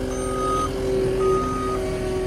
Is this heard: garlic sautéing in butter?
no